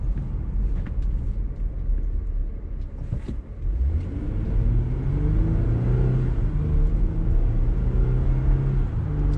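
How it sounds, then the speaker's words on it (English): A 2021 Jeep Gladiator High Altitude's V6 engine drones steadily from inside the cab, a low rumble that rises in pitch as it accelerates, with road noise underneath. "That V6 sounds really good."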